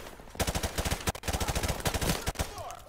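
Rapid automatic gunfire from the video game Modern Warfare Remastered, played in campaign, rattles in loud, close bursts with a brief gap partway through.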